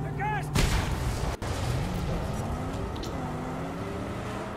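Gunfire in the Mad Max video game, a loud burst near the start followed by a sharp cut, set over a steady roar of vehicle engine and game noise.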